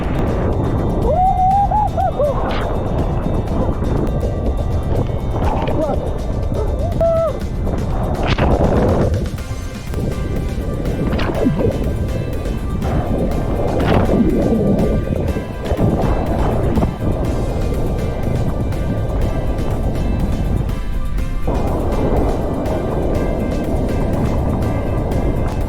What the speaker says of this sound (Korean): 까르타헤나 바다가 파도가 너무 커요.